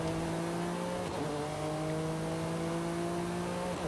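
An Ascari KZ1R supercar drifting in Forza Horizon 5, its engine holding a steady, loud drone with a brief dip in pitch from a gear change or lift partway through, with the tire noise mixed in.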